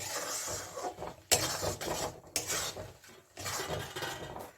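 Spoon scraping and stirring a sticky amla and sugar mixture in a pan as it dries, with repeated scrapes and clinks in an irregular rhythm, fairly close and moderately loud, no talking.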